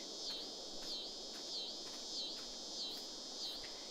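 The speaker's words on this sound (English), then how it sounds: "Hear the cicadas." Cicadas in a farming video game, a faint, steady high-pitched buzz that swells into a trilling chirp about every half second, repeating evenly with no one talking.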